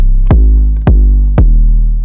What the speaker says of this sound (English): I just pulled up this Payback 808, which is going to sound like this on its own.